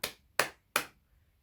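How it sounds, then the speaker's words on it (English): Three sharp hand claps spaced evenly about a third of a second apart, close and crisp, each decaying quickly into silence, demonstrating a simple rhythm for piano practice. "You can use the body, you can clap"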